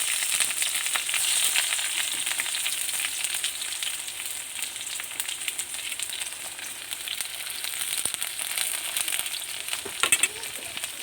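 A large onion and a couple of green chillies fry in hot oil for rajma, giving a steady soft sizzle with occasional stirring clinks and scrapes and no speech.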